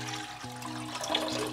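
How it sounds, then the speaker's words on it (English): Filtered water pours into a saucepan in a steady, close stream that runs without a break and brightens slightly near the end. "To a saucepan, we're gonna be adding 2 cups of filtered water."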